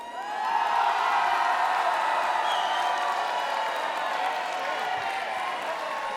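A studio audience applauds and cheers at a televised song contest finale, a steady, loud wash of clapping with scattered whoops that swells early and holds for several seconds.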